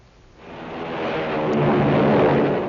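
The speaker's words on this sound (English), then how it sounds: "It's the sound of a mighty American Airlines flagship taking off." A broad, rising roar of an American Airlines airliner's engines taking off swells over a couple of seconds and holds steady, loud and continuous with no voices.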